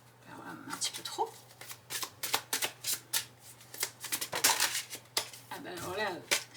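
Tarot cards shuffled in repeated quick riffling bursts close by, crisp papery flutters coming in clusters across several seconds, with a faint steady hum underneath and a brief voice near the end.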